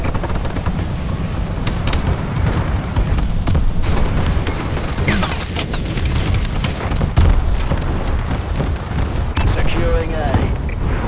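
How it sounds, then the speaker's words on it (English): Deep booming explosions from an enemy bombing run in Call of Duty: Advanced Warfare roll through steadily amid scattered gunfire, loud and sustained, while radio-style voice callouts are heard over the din. "Enemy bombing run incoming."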